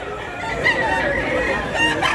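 Roosters crow over a bustling crowd at a busy chicken market in Mantalungon, Cebu, the calls rising and falling continuously amid clucking and general chatter.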